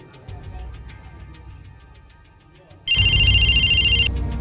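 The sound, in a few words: telephone ringing after dialing a call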